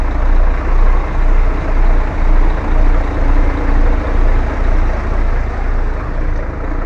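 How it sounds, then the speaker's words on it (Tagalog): Trucks idle and move in a port parking area, a steady loud diesel rumble that swells and fades in regular pulses, with no speech. "Truck ng mga kasama ko."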